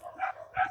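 Two quick dog barks sound close together, each a short, clear yap of moderate loudness, over a faint low background hum.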